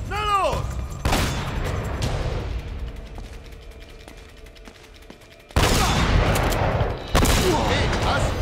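Gunfire in the video game Uncharted: Drake's Fortune, sharp bursts of shots at the start and loud repeated volleys later, with a quieter stretch between and a voice talking over it.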